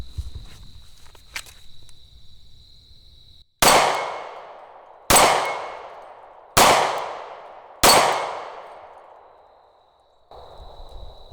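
Four loud, sharp gunshots from a dirty, unlubricated SIG P365 pistol at a shooting range, evenly spaced about a second and a half apart, each with a quick decaying ring and no talk between them.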